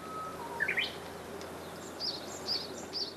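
Birds singing outside an old house on a nearly deserted Korean island, a quick rising chirp run followed by several spaced, high repeated calls over quiet morning air, no voices.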